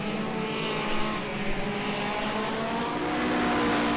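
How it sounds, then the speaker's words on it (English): Classic hot rod race cars roar around the oval at Arena Essex, a dense continuous engine drone with layered overlapping pitches and faint tyre noise, loud and steady throughout. "So 11 Sean Jacklin gets past 78 Scott Kendall in front of us."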